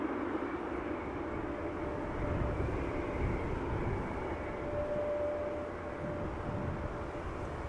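A Boeing 777 at Amsterdam Schiphol Airport gives a steady, moderately distant jet engine roar with a low rumble. The noise holds fairly constant throughout and dips slightly near the end.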